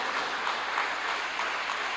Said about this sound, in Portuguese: pode aplaudir ao Senhor, pode aplaudir